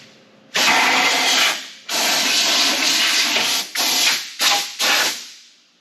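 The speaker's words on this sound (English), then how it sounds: "then I'm going to shoot the undercoat in it." Spray gun shooting undercoat onto a car rust repair, loud hissing blasts in a series of bursts: two long sprays, then several shorter ones with quick gaps, nearby and without speech.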